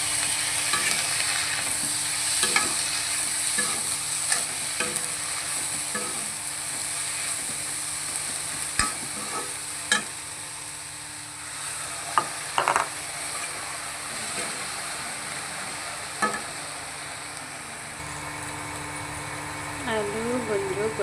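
Potatoes, gundruk and tomato fry in a pan, a steady sizzle running throughout with intermittent scrapes and clicks of stirring, while a faint low hum sits underneath.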